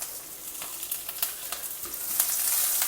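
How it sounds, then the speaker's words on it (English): Mustard seeds, urad dal, chana dal, grated ginger and chopped green chilies sizzle in hot oil, a steady hiss with faint pops and crackles, close up and without talk. "Now heat some oil, add mustard seeds, urad dal, chana dal, grated ginger, chopped green chilies."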